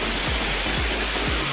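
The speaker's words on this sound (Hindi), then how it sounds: "ये देखिए ऊपर से काफ़ी बढ़िया तरीके से पानी आ रहा है, वाटरफॉल हो रहा है।" Water from a waterfall pours into a deep pool beside a temple near Almora, making a loud, steady, full-band rush with no voices.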